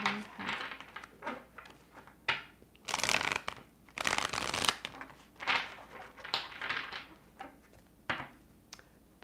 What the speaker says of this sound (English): Probably just going to shuffle these to like pull in the energy